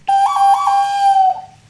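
A single sustained whistled melody, loud and close, imitating a film's title music with steady tones and a few pitch steps before trailing off, played on a hunter's game-call whistle.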